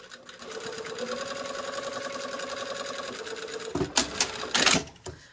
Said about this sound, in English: now we've sewn that seam